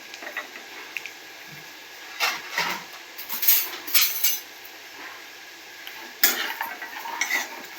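Makhana is stirred in ghee in a pan, producing intermittent scraping and light clattering strokes of a spoon over a faint, quiet sizzle, with no one talking.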